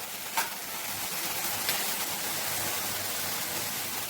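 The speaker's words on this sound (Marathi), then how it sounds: "जिरं आणि लसूण टाकायचं, चांगली गवार तेलात तळून घ्यायची आहे।" Cluster beans frying in hot oil with cumin and garlic, a dense, even sizzle hissing steadily throughout with a couple of brief crackles near the start, close and fairly loud, no voices.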